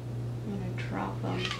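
A pet cat meows in a short, insistent call near the end of the clip, fairly close by, while someone talks over a steady low hum in a home soap-making setting.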